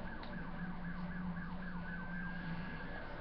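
Faint police sirens wail in a Need for Speed Most Wanted chase. They cycle in a quick, repeating rise-and-fall yelp over a low engine hum, with no talk.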